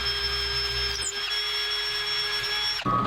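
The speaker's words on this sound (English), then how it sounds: "Now I'm going to pre-drill some pilot holes for screws." A power drill pre-drilling pilot holes for screws in a work table whines at a steady high pitch for a few seconds, with a low rumble early on, then stops abruptly.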